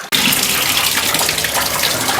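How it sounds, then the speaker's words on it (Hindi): Water gushes steadily from a kitchen tap at high pressure, a loud, continuous broadband rush that starts abruptly and runs unbroken throughout with no talking. "ये देखिए पानी का स्पीड हो चुका है ऑलरेडी।"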